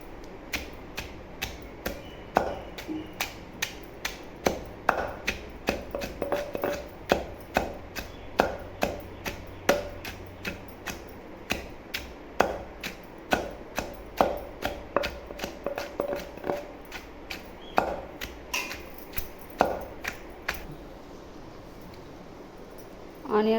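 Raw onions coarsely pounded for a village-style pachchikaram, a long run of sharp, fairly regular thuds close by, steady rhythm with brief pauses, no talk.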